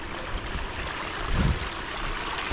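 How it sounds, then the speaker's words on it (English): A babbling brook runs down a mountainside near an old West Virginia ghost town, giving a steady broadband rush of flowing water heard close and continuous, with a slight swell in the middle and no voices. "Doesn't that babbling brook sound so peaceful?"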